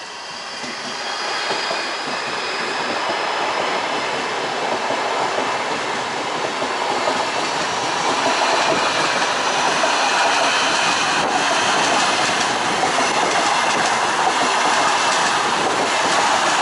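A suburban train runs between Udelnaya and Ozerki stations in Saint Petersburg, giving a steady, loud interior rumble with rolling wheel noise and rail clatter that builds slightly over time, with no speech.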